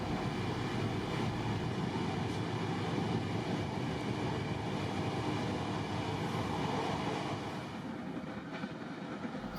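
An Intercity Notte sleeper train from Milan to Sicily rolls along the rails with a steady, dense rumble and faint clatter, continuous and close, easing slightly near the end.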